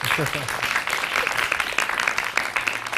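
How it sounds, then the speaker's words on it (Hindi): A studio audience on a morning television show claps for a few seconds, a moderate patter of applause with a voice speaking over it. "सो इस बात पे तालियां दो"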